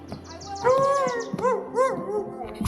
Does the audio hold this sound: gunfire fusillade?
no